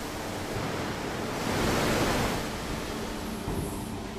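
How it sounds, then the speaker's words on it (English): A steady, loud roar of water sprayed at 160 bar to descale hot steel before the roughing mill in a hot rolling plant, a dense broadband hiss that swells slightly midway. "In order to cleanse the surface, water is sprayed at high pressure"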